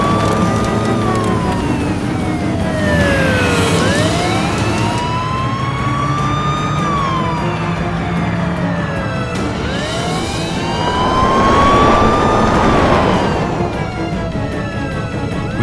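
Police sirens wail in repeated rising and falling sweeps during a high-speed car chase, loud and close over the rumble of engines, with several overlapping tones.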